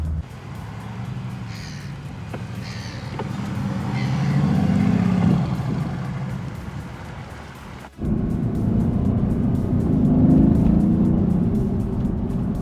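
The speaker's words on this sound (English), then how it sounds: "There's this rumble that just goes through your seat that lets you know that you have an AMG V8, all 500 horsepower worth." Mercedes-AMG GT S with its 500-horsepower V8, a low engine rumble heard from inside the car that swells and eases, drops briefly, then returns with a fuller drone, with a few faint higher chirps early on.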